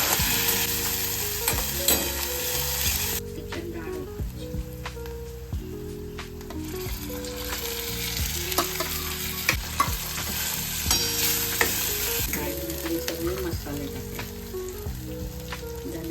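Rasam batter is stirred in a hot pan with a soft, wet sizzle and repeated squishy scraping strokes, while music plays underneath throughout.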